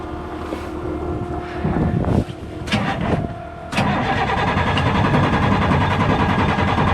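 A truck engine cranks in several short, strained bursts, each cutting off without catching, followed by a steady rushing, rumbling noise close to the microphone.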